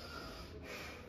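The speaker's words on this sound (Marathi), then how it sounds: "लांब श्वास घे, सोड" A patient's deep breath out through the nose during chiropractic treatment for low back pain, a soft, close, airy exhale lasting about a second, no speech.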